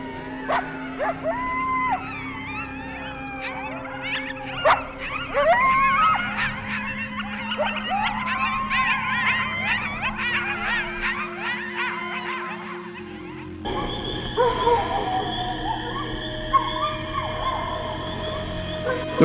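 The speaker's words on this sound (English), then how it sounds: "This video has likely recorded the sound of a large pack of coyotes making a lot of noise, probably over prey they've caught" Large pack of coyotes howling and yipping over prey, a dense chaotic chorus of rising wails and sharp yelps at middle distance, continuing steadily and shifting to more ragged howls near the end.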